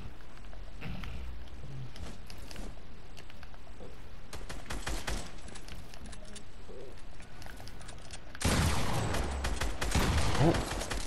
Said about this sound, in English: Who the hell shot you?